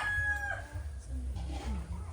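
A rooster crows once at the start, a short harmonic call over a steady low rumble. Faint clucking and chicken movement may follow.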